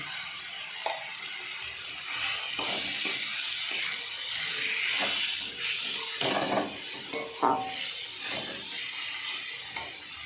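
Kashmiri chili powder hisses and sizzles in hot goat fat in a pan, a steady soft steamy frying noise with a few sharp spoon clicks, quiet and close with no talking.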